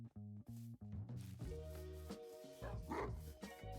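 Dogs in Minecraft barking, a pack of tamed dogs out on a walk: several near, loud yips and barks in quick succession, overlapping into a busy, layered chorus.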